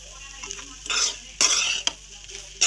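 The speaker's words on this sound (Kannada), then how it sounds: "ಕೊತ್ತಂಬರಿ ಸೊಪ್ಪು ಹಾಕಿ ನೀಟಾಗಿ ಕಲಿಸ್ಬಿಡೋಣ" A spatula stirs an okra and egg stir-fry in a pan, giving bursts of scraping and sizzling between brief quieter gaps, close and fairly loud, with no voices.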